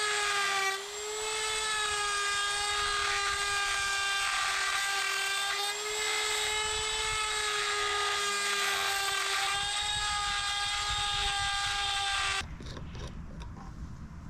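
A forged steel chaos executioner sword has its bevels ground, giving a loud, steady high-pitched grinder whine with a wavering tone that runs for about twelve seconds before cutting off abruptly, leaving quieter rough noise.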